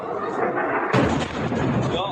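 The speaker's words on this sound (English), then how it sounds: "Huge explosions." Huge explosions in military attack footage, a sharp heavy blast about a second in followed by rumbling booms and crackling debris, loud and close over continuous background noise.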